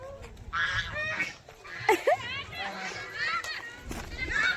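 Ducks at a pond honk repeatedly, close and fairly loud, in irregular bursts over people talking and some outdoor background noise.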